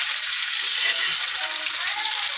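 Fish shallow-frying in oil in a pan, a steady close hiss of sizzling with faint crackle throughout, no talking.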